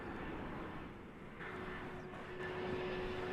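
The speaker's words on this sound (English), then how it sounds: "And Airbus A319 is next on the agenda." An Airbus A319 airliner of American Airlines arrives at DFW Airport, a steady broadband engine roar with a faint tonal whine, fairly distant and sustained throughout without talk.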